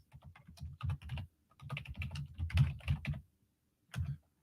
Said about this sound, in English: The bad typing's really kicking in now, y'all.